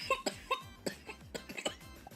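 A rapid series of short, close coughs, several in quick succession, fairly quiet and without speech.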